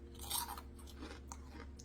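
A fried jalapeño popper being bitten and chewed close up, a few crisp crunches early on giving way to softer chewing, with no talking.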